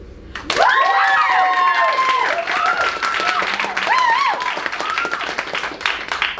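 Audience applause and cheering at a Yale University staging of The Mystery of Edwin Drood, voting for Bassett as Dick Datchery: loud clapping bursts in with excited whoops and shouts, sustained throughout.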